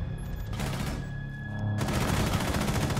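Rapid bursts of gunfire crackle and boom in Rainbow Six Siege ranked play, sparse at first, then swelling into a dense, loud fusillade.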